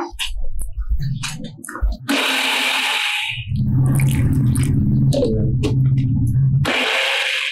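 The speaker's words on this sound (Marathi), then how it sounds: "तर आता हिला मिक्सरला बारीक करून घेऊया." An electric mixer grinder whirs loudly and steadily as it grinds soaked, roasted urad dal into a fine paste. The motor briefly dips before resuming a long, continuous drone.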